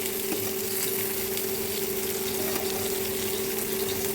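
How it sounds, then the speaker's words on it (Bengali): Hilsa fish fries in a pan on an electric stove, giving a continuous, even crackling sizzle over a steady tonal hum. "মাছ ভাজা শেষ, এখন উঠিয়ে নিব"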